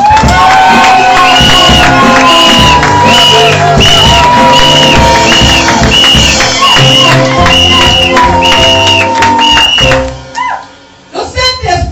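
A church congregation cheering and acclaiming, a loud, dense crowd of shouts and whoops with sustained cries rising and falling, which thins out abruptly toward the end into scattered voices.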